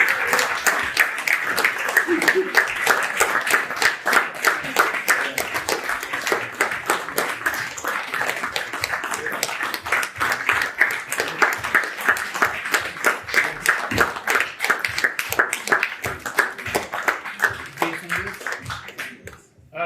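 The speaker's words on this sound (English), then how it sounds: "So I would like you all, yeah, to clap for Dean Okai." An audience at a graduation and rites of passage ceremony claps for Dean Okai in a long burst of rhythmic applause lasting around twenty seconds, with individual claps standing out and some voices mixed in.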